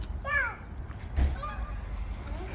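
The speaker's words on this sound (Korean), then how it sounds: "새소리도 나네?" A honking bird call sounds once, then fainter calls follow, over a steady low hum of background noise.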